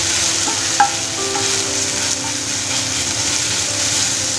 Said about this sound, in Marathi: गॅस एकदम कमी ठेवायचं आहे तिथं जळून जाईल आणि चांगलं परतून घ्यायचं आहे तेलामध्ये